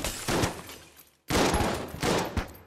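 Shotgun blasts in the video game Enter the Gungeon: two loud, sharp bursts with short decaying tails, separated by a brief gap.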